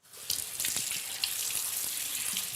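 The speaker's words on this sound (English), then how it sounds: "I'm just gonna rinse this out." Peppers rinsed under a running kitchen tap, a steady hissing stream of water splashing into a sink with small irregular spatters, close and continuous after a quick start.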